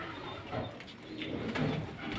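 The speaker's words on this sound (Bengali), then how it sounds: "তো এই যে বাংলাদেশি কবুতর" A Bangladeshi pigeon coos nearby in soft, low, rolling calls, repeating a few times over a quiet background.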